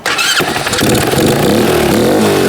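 A 150cc go-kart engine starts with a sharp burst and rises into loud, close revving, its pitch climbing and wavering as the throttle opens, with no voices over it.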